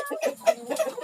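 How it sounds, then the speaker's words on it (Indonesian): A six-month-old rooster kept in a small backyard pen gives a few short, close clucks in quick succession, alone and moderately loud. "Ini kita meletakkan satu ayam jantan umurnya baru 6 bulan"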